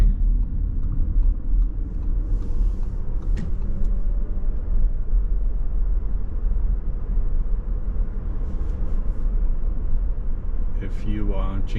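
A 2021 Audi e-tron electric car pulls back onto a highway, giving a steady low road rumble and tyre roar that holds throughout, with faint higher noises near the end.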